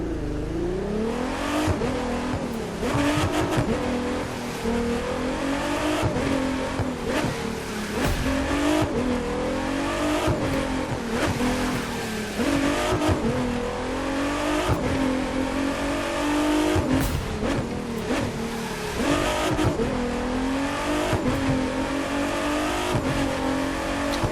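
A car in the racing game The Crew 2 accelerates on a test drive, its engine revving loudly and continuously through repeated gear changes, rising and dropping pitch with brief tire squeals, close and alone.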